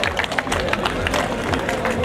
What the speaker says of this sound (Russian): Друзья, ваши аплодисменты бойцам этого боя.